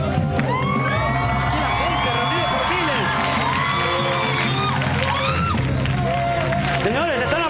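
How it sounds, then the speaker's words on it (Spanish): A lively crowd at a televised costume-mascot race in a studio forum cheers, whoops and applauds continuously, loud and close, with shouting voices and speech mixed through the din. "El público aplaude en el foro."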